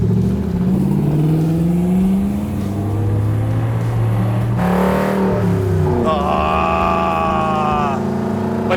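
A Superformance MkIII Cobra R with a 5.2 Aluminator engine making 580 hp roars loud and close, its note wavering, then climbing through several sharp revs to a high scream before settling; voices are faintly present underneath.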